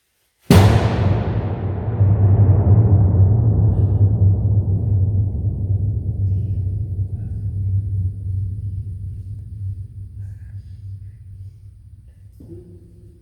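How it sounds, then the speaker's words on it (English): Cave thunder in Bluespring Caverns: a sudden loud boom rolls into a deep, sustained rumble that echoes through the cave passages and slowly fades over about twelve seconds, with a faint sound at the very end. "And that was cave thunder."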